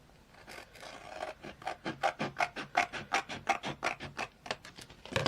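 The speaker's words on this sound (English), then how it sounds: "I'm just going to come in with my scissors and cut that excess off." Scissors snip steadily through excess paper along the edge of a glued junk journal page, a rapid run of crisp, close cutting strokes that grow slightly louder toward the end, with no talking.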